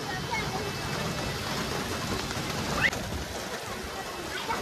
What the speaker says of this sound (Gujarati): કેટલો બેફામ વરસાદ આવે